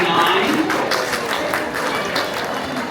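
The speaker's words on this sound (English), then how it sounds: "Round of applause for contestant number" Audience applause for a contestant at a Halloween costume contest at the Princeton University Art Museum, a steady wash of clapping that fades gradually, with a voice talking over it.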